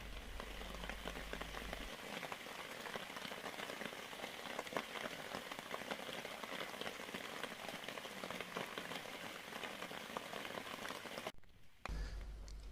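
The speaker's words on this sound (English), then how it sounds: "And it doesn't stop raining." Steady rain patters at a lake in Brigueuil, France, in a continuous soft hiss, with a brief break in the sound near the end before it resumes.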